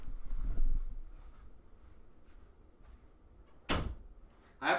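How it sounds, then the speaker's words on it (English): A door shuts firmly in a room during a live baseball play-by-play stream, one solid thump after quiet background noise, followed by a fainter knock near the end. "I have to shut the door or the dog will come in."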